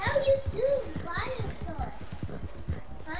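Horse hooves galloping in the Red Dead Online video game, a fast rhythmic clip-clop of several beats under close, excited talking.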